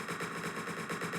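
Rapid automatic gunfire from the video game Entry Point, a steady stream of fast shots heard at a distance, fairly faint and with no talking.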